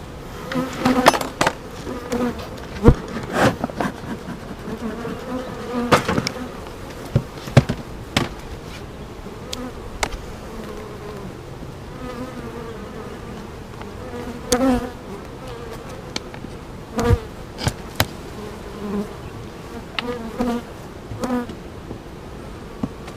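Honey bees buzz in a dense, continuous drone around an open hive during an inspection, close by, with scattered sharp clicks and knocks from handling the frames and boxes, and no one speaking.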